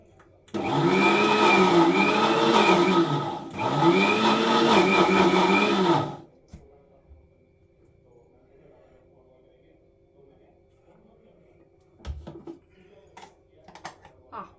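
A kitchen mixer grinder jar with dull blades grinds a wet batter for Mangalore bajji in two loud, close whirring bursts lasting about six seconds. Quiet follows, broken by a few clatters near the end.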